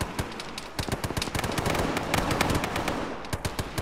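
Gunfire in the Arma military shooter game: rapid, dense volleys of cracking shots layered over one another, steady and fairly loud for a few seconds, no voices.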